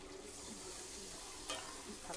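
Dried jujubes simmer with a lump of date palm jaggery and water for a pickle, giving a faint, steady soft bubbling hiss, with a brief stirring scrape partway through and a sharper clink at the end.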